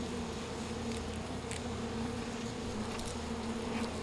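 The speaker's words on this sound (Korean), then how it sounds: "우르르 몰려든 일벌들은 가차없이 손상된 애벌레를 끌어낸다." Worker honeybees swarming inside a hive, their dense buzzing a steady close drone with a few brief louder flickers as individual bees move nearby.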